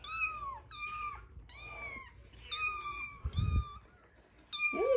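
Several foster kittens meow close by in a rapid series of high, thin cries that overlap and repeat, with brief rustling and handling noise between them.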